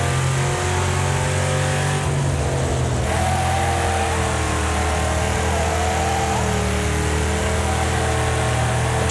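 Car engine in the Wreckfest racing game holding a steady drone with layered harmonic tones and a slight rise in pitch, continuous and close throughout with no talking.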